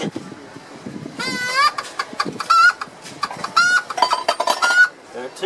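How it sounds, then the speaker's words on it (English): Rooster call from a hand-held bird caller at a show: a close burst of clucking and squawking crow-like notes in uneven bursts, with some background crowd noise. "And the rooster of the chicken."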